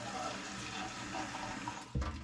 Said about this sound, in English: I add some water in here.